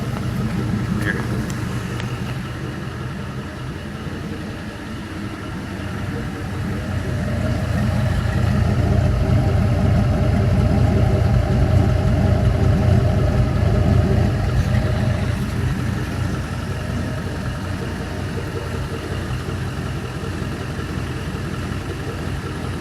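An LS crate engine idles steadily on a test run, a loud continuous low rumble that swells slightly midway, with a voice talking faintly over it.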